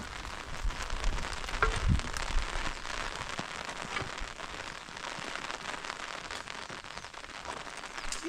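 Rain falls steadily on a household's surroundings, a continuous close patter with scattered sharper drops. A brief low thump comes near the start, and the sound otherwise stays even throughout with no talking.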